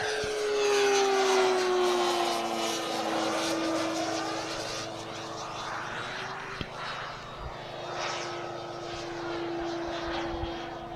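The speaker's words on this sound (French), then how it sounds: "l'avion que vous voyez devant vous est un PC-21" A Pilatus PC-21 turboprop trainer aircraft engine runs loud and steady with a strong droning tone and whining harmonics that shift in pitch, no talking over it.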